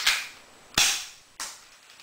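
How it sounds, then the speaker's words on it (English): A spring-powered Taurus airsoft pistol is cocked and fired, giving three sharp snapping cracks about two-thirds of a second apart, the middle one loudest, close and dry with brief hissy tails and no talk. "So when I cock it and shoot, it's going to hit that target and it's going to hit them critters."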